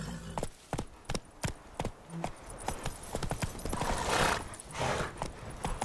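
Roach, Geralt's horse in The Witcher 3, trots with sharp, evenly spaced hoof strikes, loud and near, with a swelling rush of noise around the middle before the hoofbeats resume.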